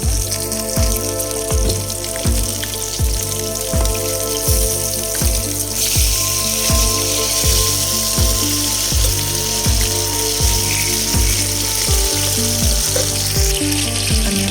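Pieces of desi rohu fish fry in a pan with a steady, close, crackling sizzle. The sound runs without a break, and a rhythmic, tonal background plays underneath.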